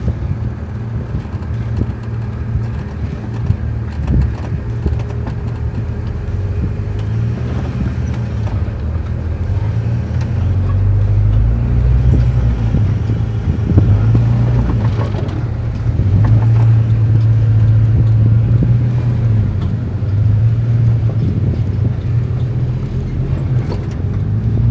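Overland vehicle crawling off-road into Golden Crack in Moab, a steady low engine drone with rough rumbling and occasional knocks over about twenty-five seconds, close and continuous with no talk.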